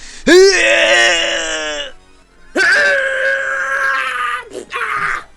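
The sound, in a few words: voice imitating Goku's Super Saiyan scream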